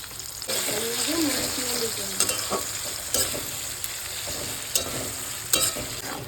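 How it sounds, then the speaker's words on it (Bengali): Chopped onions with a pinch of salt fry in a pan with a steady hiss and sizzle, joined by scraping stirs and a few knocks, while a voice murmurs faintly underneath. "পেঁয়াজটা একদম লাল লাল করে কিন্তু ভেজে নিতে হবে।"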